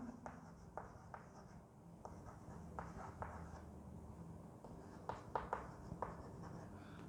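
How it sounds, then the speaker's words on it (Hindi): Quiet, close scratching and tapping as a marker or chalk writes a biology example on a classroom board, with short strokes in an irregular rhythm and faint room noise between them, and no speech. "मैं इसका एग्जांपल लिख देता हूं"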